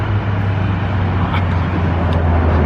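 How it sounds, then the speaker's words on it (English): Steady roar of passing cars near Flatiron Mall in Colorado, a loud continuous wash of roadway noise with no breaks and no talk over it. "If you can hear us over all these cars."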